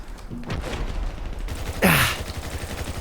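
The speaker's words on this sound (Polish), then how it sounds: "ładne strzały, naprawdę." Gunfire in the video game GTA V rings out as one loud, sharp burst partway through, over a low, busy game background.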